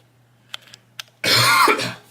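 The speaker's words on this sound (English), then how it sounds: "Coughed right into the microphone." A single loud, harsh cough close into a microphone after a couple of faint clicks in near silence, rough and breathy, lasting under a second.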